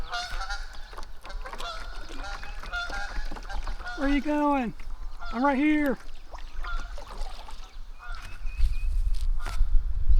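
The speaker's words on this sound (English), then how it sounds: "I guess they're geese, not ducks." Geese honk repeatedly along the Buffalo River, with loud nasal calls in two clustered bursts. A person in a canoe speaks over steady water and paddling noise.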